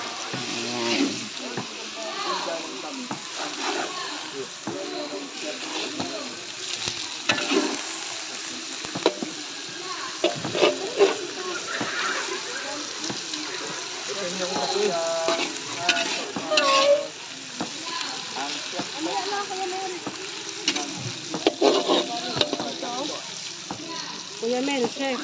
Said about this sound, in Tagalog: Sangkutsahin natin bago natin ilagay sa sabaw.